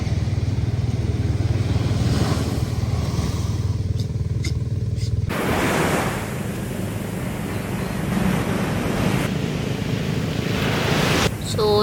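Waves break and wash onto a beach in Zambales, a steady broadband surf roar with gusts of wind buffeting the microphone, continuous and fairly loud with no talk.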